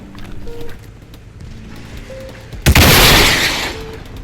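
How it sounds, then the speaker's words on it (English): In a multicrew tank combat game, a tank fires a tandem-warhead rocket at an enemy tank: one sudden loud blast and a roaring, hissing rush that fades over about a second and a half, with faint mechanical beeps and rumble before it. "The tandem warhead fails to penetrate the EI, though the rocket hits, so I fire again."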